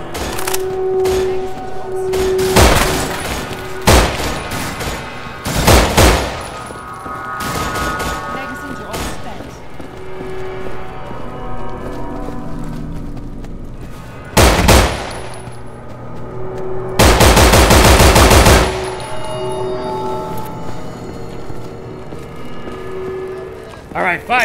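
Bursts of firearm gunfire from the zombie shooter game No More Room in Hell. Loud rapid volleys and single shots come in clusters through the clip, with thuds between them, while a player talks over the action.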